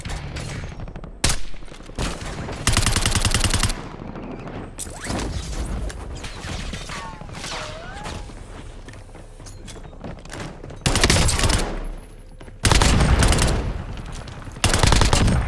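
Gunfire in the Black Ops 6 Warzone video game, loud repeated bursts of automatic fire separated by quieter stretches of mechanical clanks and thuds, with sharp close volleys near the end.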